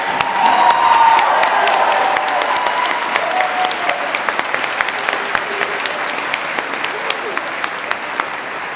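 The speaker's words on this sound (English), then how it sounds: "give a huge round of applause for our speakers and presenters" Loud applause from a large audience at a university graduation ceremony, steady clapping that gradually thins out into scattered individual claps.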